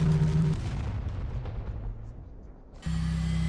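Spaceship crash in a flight video game makes a deep rumbling explosion that rolls on and fades over a few seconds, followed by a steady low engine hum returning.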